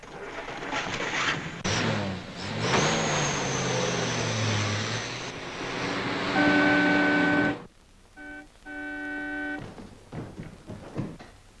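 A car drives off in a 1940 film scene set in a city, its engine rising and pulling away loudly over several seconds before cutting to quieter sounds with a steady tonal hum.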